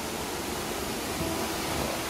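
Waterfall at the Garden of Caves in Cherrapunji, Meghalaya, heard as a continuous broadband rush of falling water, steady and fairly close, with no voices.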